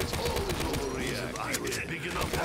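Rapid gunfire from the Zetsubou no Shima map of a zombies video game, bursts of shots rattling continuously over game sounds and a talking player.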